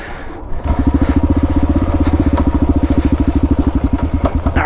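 An ADV motorcycle engine chugs at low revs on a woodland trail, a close, loud rhythmic thumping pulse after a brief quieter start, with faint rattles over it.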